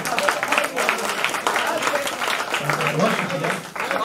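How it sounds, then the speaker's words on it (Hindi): Enthusiastic applause from a crowd at a poetry recital, loud and continuous, with voices calling out over the clapping. "एक बार अपने लिए जोरदार तालियां बजा दीजिएगा"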